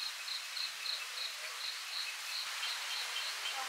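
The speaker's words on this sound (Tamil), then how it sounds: "மழை பெய்யுது." A forest at dusk after six o'clock while rain falls: crickets chirp in a steady rapid pulsing trill over a soft, constant wash of rain, with no talking.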